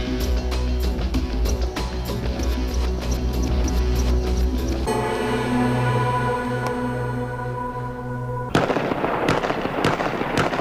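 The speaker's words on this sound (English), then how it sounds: "Fires and shots all over Baghdad, heard all over Baghdad." Sharp cracks and bangs of gunfire echo across Baghdad at night, coming in dense irregular bursts over a continuous rumbling backdrop that shifts partway through.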